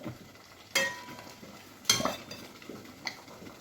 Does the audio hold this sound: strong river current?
no